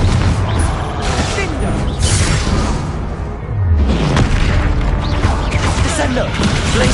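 A Confringo spell blast in the Hogwarts Legacy video game, heard as loud, dense booms and crashing impacts that roll on almost without a break, with a short dip in the middle.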